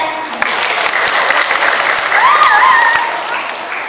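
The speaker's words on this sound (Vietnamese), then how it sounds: "Chúng ta hãy dành một tràng pháo tay thật lớn" Loud, sustained applause from a large crowd at a children's festival at a school in Ben Tre, Vietnam, dense and steady, with a faint whistle or cheer rising partway through.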